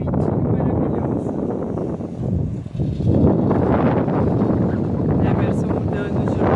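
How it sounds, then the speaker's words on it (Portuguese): Steady wind gusting across a beach campsite in Santa Catarina, a broad continuous roar buffeting the microphone for the whole stretch, dipping briefly midway before surging back, with a voice speaking over it. "Olha o vento, que delícia!"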